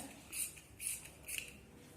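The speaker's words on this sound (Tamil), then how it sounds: "இப்போ கை வெட்டி எடுத்துக்கலாம். பிடிக்கிறதுக்கு போட்டதுலேருந்து வெட்டி எடுத்துக்கோங்க." Scissors snip through blouse fabric to cut out a sleeve: three soft, quiet crisp cuts spaced about half a second apart against a near-silent room.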